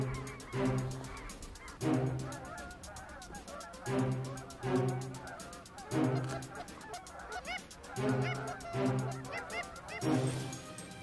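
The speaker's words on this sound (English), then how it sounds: "We had ducks, snow geese, and Canada geese working in the nearby fields." Flocks of snow geese and Canada geese honk over nearby fields in a steady chorus, with repeated loud bursts of overlapping calls every couple of seconds and no voices over them.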